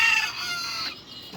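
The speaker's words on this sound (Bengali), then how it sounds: "এটার ভিতরে আর কি রোড আইল্যান্ড জাতের মুরগি রাখছি।" Rhode Island Red hens in a rooftop coop let out a brief, close cluck-like squawk that fades into a quieter tail.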